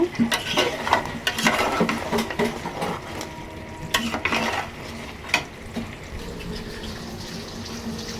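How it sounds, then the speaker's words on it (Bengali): Chicken sautés in spices as the masala dries, a soft sizzle under scraping stirs that come and go, louder early on and then quieter. "চিকেনটা কষানো হয়ে যাচ্ছে মশলা শুকিয়ে এসেছে"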